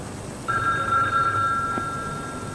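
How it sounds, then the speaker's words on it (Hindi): A telephone rings indoors in a domestic drama scene, a steady electronic tone that starts half a second in and holds for about a second and a half before fading, over a quiet room hum. "शायद अकीला का फोन है"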